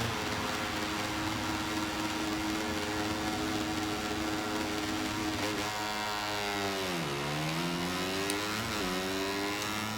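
Motorcycle engines screaming at a race start in the MotoGP 25 video game, a dense, loud, continuous revving wall with pitch sweeping down and climbing again as the bikes launch off the line, no voices.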